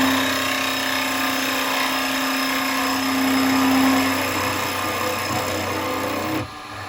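A woodturning lathe spins a fresh piece of wood as a reground gouge cuts it, giving a steady whirring hum with a sustained tone that cuts off abruptly near the end.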